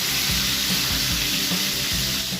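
Coconut-coated chicken fries in hot oil with a dense, continuous sizzle and crackle, loud and close throughout.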